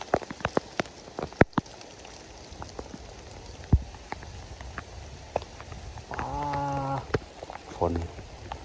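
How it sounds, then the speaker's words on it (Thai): Rain falls on surfaces in a rural hillside setting, scattered sharp drops pattering over a soft hiss, with a short burst of a voice or animal call partway through and gusts of wind underneath. "บรรยากาศมีแต่ลมพัดแล้วก็ฝนตก"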